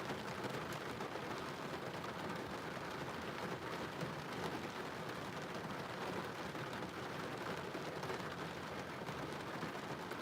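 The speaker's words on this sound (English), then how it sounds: "I'm sure you guys can probably hear the rain right now." Steady rain patters on the outside of a car, a dense, even hiss that holds for the whole stretch with no talking.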